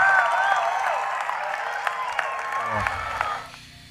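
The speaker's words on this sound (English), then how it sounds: "I would like everyone to give a rousing round of applause to all our athletes here this morning." Applause ripples through a crowd gathered for a primary school athletics championship, a broad spread of clapping with a few sharper claps standing out, fading near the end as a low voice or hum enters underneath.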